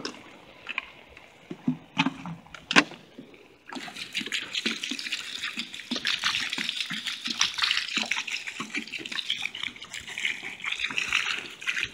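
Water pours from gallon jugs onto a campfire in a national forest, starting with a few splashes and knocks, then a steady, hissing, gushing stream at a close, moderate level with no voices.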